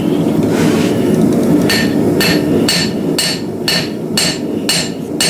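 Steady metallic hammer strikes on hot iron ring out in an even rhythm, close and loud, over a constant low roar like a forge fire, while hand-forging a frontier knife blade.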